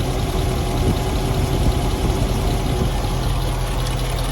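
A 1973 Mercedes-Benz 450SL V8 idles steadily up close with its fan spinning, giving a continuous even engine drone and whirr with no pauses on a warm day.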